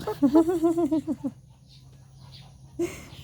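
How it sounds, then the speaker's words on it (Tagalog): A hen's rapid run of clucks, close and fairly loud, then a quiet pause and one more short cluck at the end. "Yan yung manok."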